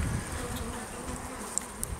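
Honey bees buzz steadily during a hive inspection, a dense continuous drone from many insects close by, with no talk.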